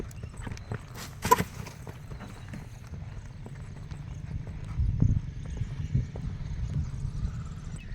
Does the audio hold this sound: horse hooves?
yes